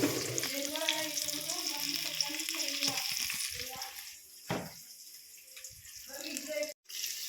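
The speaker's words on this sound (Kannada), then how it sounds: "ಆನಿಯನ್ ಫ್ರೈ ಆಗ್ತಿದೆ ಗೈಸ್" Onions fry in a small amount of oil with a constant soft sizzle, under a person talking for the first few seconds, followed by quieter frying, a brief clatter and a short dropout near the end.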